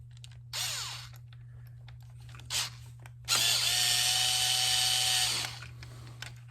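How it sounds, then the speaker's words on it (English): A power driver spins screws on a Yamaha XVZ1300 Venture carburetor, giving short bursts followed by one longer whirring run, with a steady low hum underneath throughout. "I'm going to do those 4 inside screws in the top"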